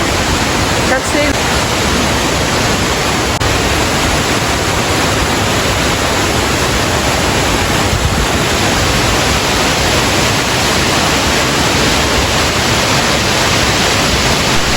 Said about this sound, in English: I love the sounds of waterfalls as it is plunging down from up above.